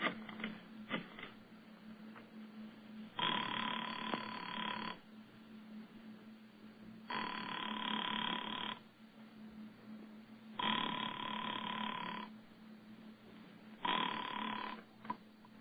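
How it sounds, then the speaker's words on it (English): After dialing, a telephone line gives a ringback of four long buzzing bursts at a steady rhythm, with a low hum running underneath throughout. "went to the phone and dialed"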